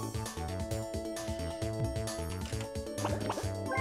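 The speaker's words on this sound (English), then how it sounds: "It sounds like he's drinking water." Cartoonish gulping and liquid sound effect of a character drinking water in a Mario Party video game, a rapid repeating pattern of short watery glugs over about four seconds, heard alone without talk.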